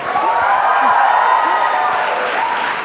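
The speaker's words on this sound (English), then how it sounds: "Guys, I think we need a louder cheer for this." A large event audience at a Mumbai youth conclave cheers and shouts in a steady, dense roar of crowd noise, loud and continuous throughout, with scattered voices in the mix.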